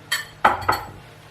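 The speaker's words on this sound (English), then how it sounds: "stirring it in so that it blends nicely with the butter and the finely minced onion" A spoon clinks against a pot three times in quick succession while flour is stirred into butter and finely minced onion; the clinks are sharp, close and fairly loud over quiet kitchen background.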